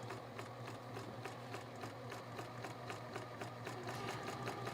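A sewing machine runs steadily, stitching applique on a quilt with a fast, even mechanical rhythm and a constant low motor hum, close and fairly quiet with no talking.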